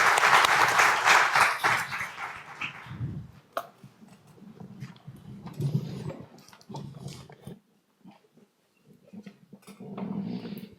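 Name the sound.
audience applause for the forum guests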